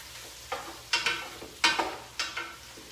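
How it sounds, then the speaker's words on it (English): Cabbage soup stirred gently in a pot, four or five separate soft scraping swishes of a spoon against the pot over a low simmering background, close and quiet. "I'm just gonna gently stir this."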